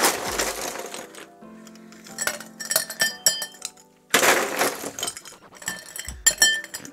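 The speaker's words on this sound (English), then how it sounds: "Fresh ice in my glass." Fresh ice cubes dropped into a glass while making a Jack Daniel's Honey whiskey cocktail at a home bar, giving two bursts of bright clinking and rattling a few seconds apart, close and fairly loud, with no talk.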